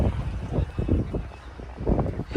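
Gusty wind buffeting the microphone outdoors on a chilly day near a market lot of vehicles, in rough, rumbling low-pitched bursts that rise and fall.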